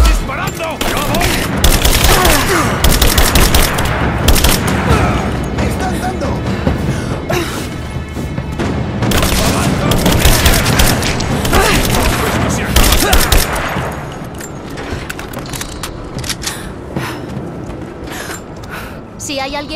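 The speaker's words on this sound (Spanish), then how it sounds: "¡Me están disparando!" Sustained gunfire and explosions in the video game Rise of the Tomb Raider: dense, loud volleys of shots, crashes and booms run nearly continuously, easing slightly toward the end, with in-game voices talking over the combat.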